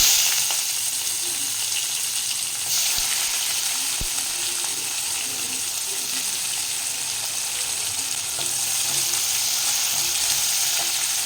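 Chopped onion fries in oil with whole spices, bay leaves and cumin, giving a steady, close hissing sizzle that holds evenly throughout with a couple of faint clicks of a utensil.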